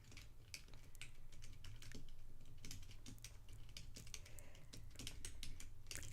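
Rapid, irregular keystrokes on a computer keyboard while typing a chat message, close and fairly quiet, sharp clicks in bursts with no voices.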